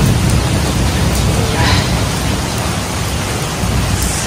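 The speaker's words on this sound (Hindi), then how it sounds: "एक तेज बारिश आई है," Heavy rain pours in a steady, loud hiss throughout, with faint rumbles of thunder blending into the downpour during a hot, humid spell.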